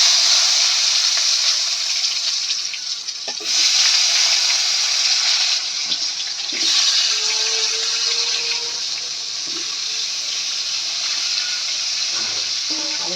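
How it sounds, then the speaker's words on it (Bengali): Brinjal frying in hot oil with cinnamon, cardamom, bay leaf and cumin, a loud continuous sizzle and hiss with faint clinks of stirring throughout. "এগুলো একটু ভালো করে ভাজা ভাজা করে নেব।"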